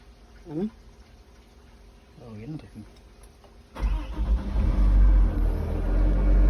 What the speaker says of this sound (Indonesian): di sini dilakukan starter engine, yaitu ditekan atau dipencet ke bawah